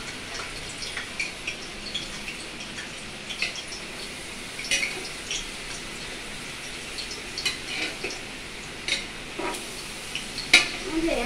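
Curry with cumin and coriander fries in hot oil: a soft, continuous sizzle with scattered scraping clicks of a utensil stirring the pan, heard close and fairly quiet.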